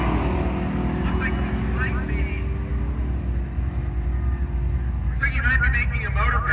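Drag racing car making a full pass down a strip at Byron Illinois Dragway, its engine drone rumbling in the distance beneath continuous commentary from an announcer.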